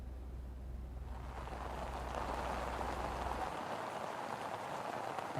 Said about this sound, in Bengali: সকাল থেকে কিন্তু সুনামগঞ্জে থেমে থেমে মুষলধারে বৃষ্টি হচ্ছে